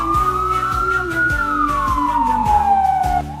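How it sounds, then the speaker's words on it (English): A cartoon police siren wails steadily, its tone sliding smoothly downward over a few seconds, with a regular low pulsing thump beneath it and no voices. "in the distance, she heard the sound of police sirens"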